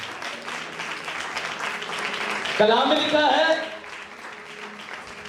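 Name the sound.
audience applause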